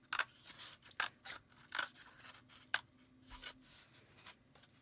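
Scissors snip through craft material for a Christmas gnome hat ornament, a close series of irregular crisp cuts with short pauses between strokes.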